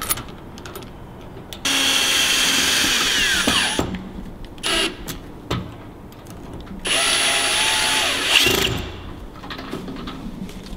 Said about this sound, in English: Next, we're going to install the screws.